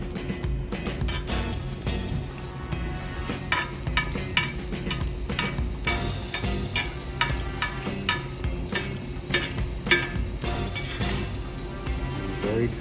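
An empanada fries in hot oil in a pan with a steady, loud sizzle. Frequent crackles and spatters run throughout, with no talking.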